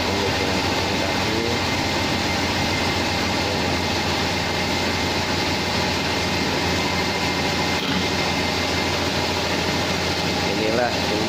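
A sock knitting machine runs with a steady, dense mechanical whir and low hum throughout, while a person talks over the constant noise.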